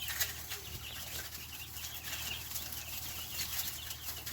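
Chicks being fed give soft clucks and peeps with occasional brief wing flutters, faint and close over a low background hum.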